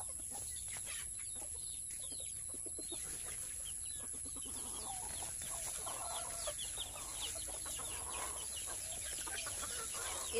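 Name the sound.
chickens clucking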